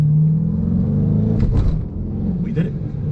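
Twin turbo Dodge Hellcat with a dog box transmission pulling hard, a loud low engine roar with a quick shift break midway and another near the end.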